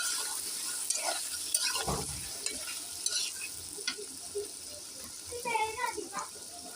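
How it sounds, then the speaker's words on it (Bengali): Bay leaves, onion and other ingredients for chicken liver bhuna being lightly fried, a soft sizzle with intermittent scraping and clinks of a spatula against the pan, fairly faint, with some voice sounds in the background. "হালকা ভেজে নিব।"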